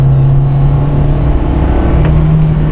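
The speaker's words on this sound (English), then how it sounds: "first the engine starts revving like crazy, and then it starts accelerating" A Hyundai Kona engine hums loudly and steadily close by during a kick-down, its pitch holding high as if revving, with road noise underneath and no voices.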